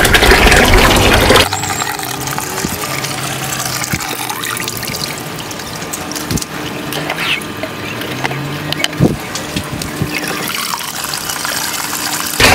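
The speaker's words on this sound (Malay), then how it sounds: "air akan semakin tinggi dan akan overflow masuk ke dalam kita punya bio filter" Water overflows from a solid waste filter into the bio filter of a tilapia aquaponics gutter system, a steady close trickle and splash running continuously with a few louder gurgles.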